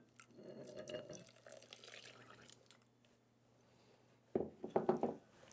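Milk is poured into eggs in a kitchen, two cups going in as a soft, steady liquid stream. After a brief lull, a few louder splashes and drips follow.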